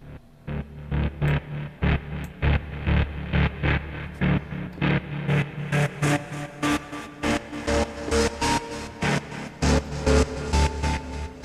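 Project ALPHA synthesizer drone with its gate set to 16, a loud sustained tone chopped into fast, even rhythmic pulses that repeat steadily throughout, no voices.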